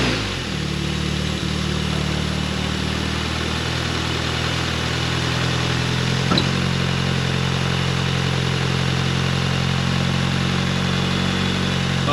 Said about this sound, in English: Let's start up the car, let's listen to the car